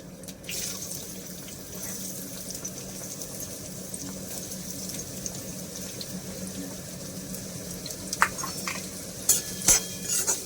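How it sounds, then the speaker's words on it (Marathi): Chopped onion sautéing in hot oil with curry leaves in a pan while cooking Kolhapuri-style stuffed brinjal: a steady hissing sizzle runs throughout, with a few sharper scraping stirs and clinks near the end. "कांदा चांगला थोडासा ब्राऊन होईपर्यंत चांगला परतून घ्यायचा"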